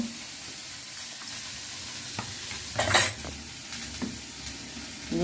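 Ivy gourd rice with tamarind added sizzles and fries in a pan, with stirring scrapes and occasional clinks of a spoon against the pot, steady and close with a louder burst of stirring midway.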